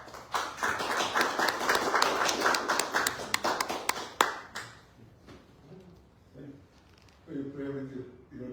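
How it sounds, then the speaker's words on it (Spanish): An audience at a book presentation gives dense, lively applause for the author that fades after about four seconds, and a voice speaks afterward. "quiero que recibamos con un cálido aplauso al autor de estos breves poemas"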